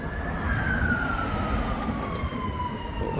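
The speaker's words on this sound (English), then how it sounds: "ambulance." A distant emergency siren wails along a street, its tone sliding slowly downward as it passes, faint beneath steady traffic and outdoor rumble, with no voices.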